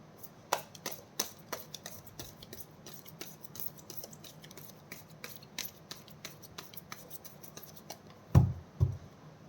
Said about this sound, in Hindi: This is my one and last shuffle.